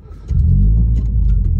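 Renault Clio RS 200 with a Scorpion non-resonated exhaust firing up: a short crank, then a deep, loud rumble settling into a steady idle close by.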